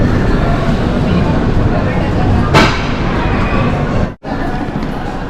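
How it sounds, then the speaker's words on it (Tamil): The Bangalore to Chennai Shatabdi Express passes Katpadi station as a loud, close, steady rumbling roar, briefly cutting out near the end. "பெங்களூர் டு சென்னை சதாப்தி எக்ஸ்பிரஸ் வந்து நம்ம வந்து காட்பாடியில் கிராஸ் ஆகுது."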